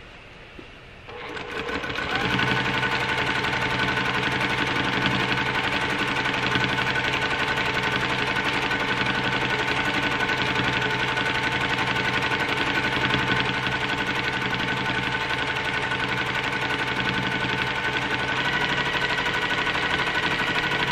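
Domestic sewing machine stitching during free motion quilting of circles on quilt sashing, starting after a brief quiet moment, then running as a steady, fast, whirring hum with rapid needle rhythm for the rest of the stretch.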